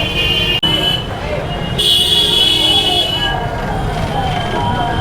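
Busy street traffic in Varanasi, India: constant engine rumble and road noise fill the background while car horns toot and blare repeatedly, some long and sustained, with voices faintly mixed in.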